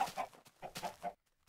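Chickens in a video game coop cluck in a quick series of short, moderately faint bursts, several clucks overlapping before falling silent.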